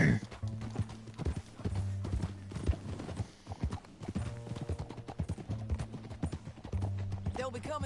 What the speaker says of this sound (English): Mount your horse.